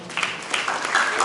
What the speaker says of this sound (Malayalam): നല്ലൊരു ക്ലാപ്പ് കൊടുത്തേ